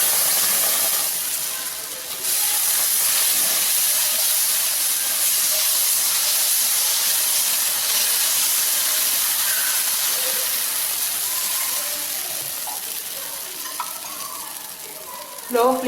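Green gram pesarattu dosa batter of ground moong dal and rice sizzles and hisses steadily on a hot pan over low flame, a loud continuous fry that fades slightly toward the end.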